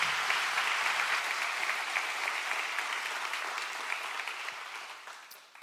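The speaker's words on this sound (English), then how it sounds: "Would you give Moses a great round of applause?" Congregation applause at a Compassion Sunday church service, a dense steady wash of many hands clapping that holds for several seconds and slowly fades, with no voices over it.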